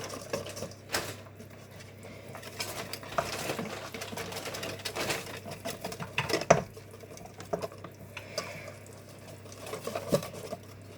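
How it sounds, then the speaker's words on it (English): An electric whisk whirs through cake batter in a home kitchen, buzzing steadily with irregular clatters and knocks against the bowl and soft background movement throughout. "While I mix it all, he is electric whisking it."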